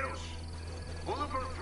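A bird cawing in the video game Ghost Recon Wildlands, a few short raspy calls near the end over a steady low background hum, with a voice talking nearby.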